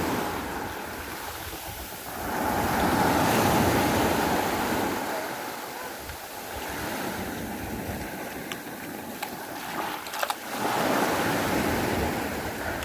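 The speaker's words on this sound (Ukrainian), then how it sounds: "трохи хвилі." Tyrrhenian Sea waves in Basilicata, Italy, wash and break steadily nearby, with gusty wind buffeting the microphone throughout.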